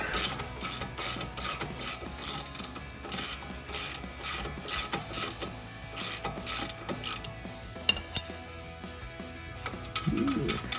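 A ratchet backs out the stock carriage bolts during a Bilstein steering damper install on a Jeep Wrangler JL: steady, close bursts of rapid clicking, with a couple of louder metallic knocks near the end.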